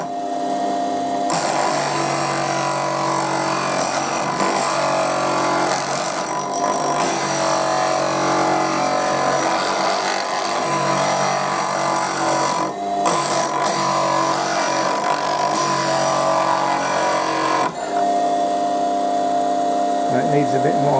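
A bench grinding wheel sharpens a drill bit in a workshop, a steady loud motor whine and grinding hiss running continuously for about twenty seconds, with brief dips as the bit is repositioned, no talk heard.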